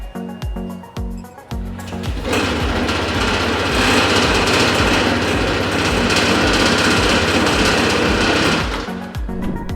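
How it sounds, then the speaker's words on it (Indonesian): A Honda motorcycle fitted with an ACG starter fires up smoothly without a grinding starter gear, then its engine runs at a steady, loud idle for several seconds after a brief stretch of quieter rhythmic background. "ACG Starter merupakan teknologi yang membuat starter motor terdengar sangat halus ketika motor pertama kali dihidupkan"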